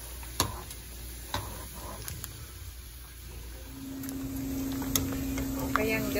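Pork rinds crackle and sizzle in a frying pan as they are stirred, with scattered ticks and pops over a steady hiss, occasional louder clacks of the spoon against the pan.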